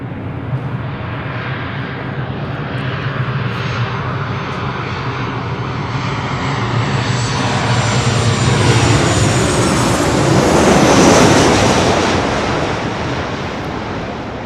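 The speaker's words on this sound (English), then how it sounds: "This is Alaska Airlines Flight 1220 coming in from Seattle on a 737-900ER." An Alaska Airlines Boeing 737-900ER jet arriving from Seattle at LAX roars close and loud, swelling to a rushing peak near the end as it passes, with wind buffeting the microphone.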